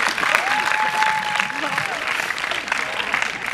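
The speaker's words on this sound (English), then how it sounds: "let's give them a nice big round of applause" An audience at a class of 2005 school gathering claps in steady, dense applause that runs the whole time, with voices mixed in and a faint whistle near the start.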